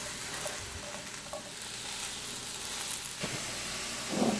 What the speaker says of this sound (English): while my mushrooms are browning up